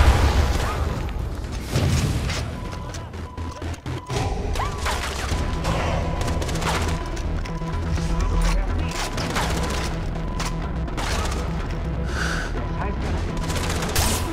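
Enemy gunfire in the Far Cry 3 video game, dense bursts and booming shots hammering steadily throughout, with explosive thuds and a voice talking over the battle.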